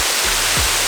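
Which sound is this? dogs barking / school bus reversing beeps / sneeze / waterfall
waterfall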